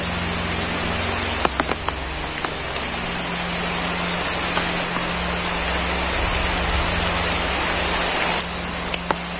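Steady, heavy rain hissing continuously, close and loud, with occasional sharp drips or taps and a low hum underneath, no voices.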